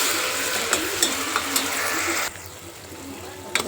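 Chopped ginger and garlic sizzle and crackle steadily in hot oil at the start of a mutton curry, with a few sharper pops, then the frying drops to a quieter hiss partway through.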